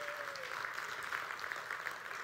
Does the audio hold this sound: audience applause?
yes